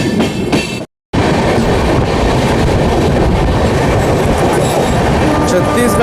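Jan Shatabdi Express runs at speed past a passenger train on the crossing, a loud continuous rumble of wheels and rushing air, interrupted by a brief silent cut, with rhythmic clatter throughout.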